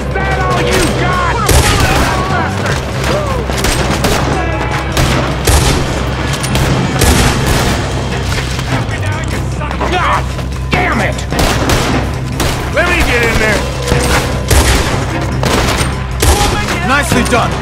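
Sustained gunfire in a Red Dead Redemption 2 shootout, with dense bursts of shots and booming impacts running continuously and loudly, game music or effects layered underneath.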